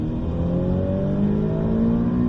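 A race car engine pulls hard under acceleration on the Circuit de Bresse, a loud, steady, close-up drone with harmonics climbing in pitch throughout.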